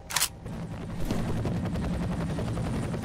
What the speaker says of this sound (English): Just an assault rifle.